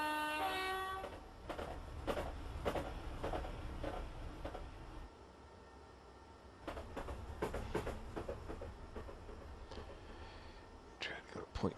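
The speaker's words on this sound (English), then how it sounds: "there's a train on the tracks" A train running on the tracks in Train Simulator 2015, London to Brighton route: a steady rumbling rail noise with clanking and a brief horn-like tone at the start, while someone talks over it throughout.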